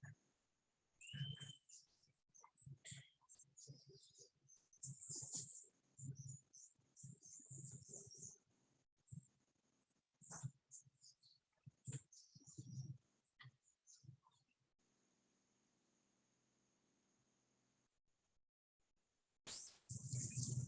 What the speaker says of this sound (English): And if you can hear the sounds of the birds.